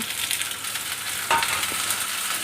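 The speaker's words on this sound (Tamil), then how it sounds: "அதுக்கப்புறம் தக்காளியும் போட்டு வதக்கிக்கலாம்" Green chillies and tomatoes sautéing for a chutney, a steady hissing sizzle up close with one louder scrape of a stirring spoon midway, no talking.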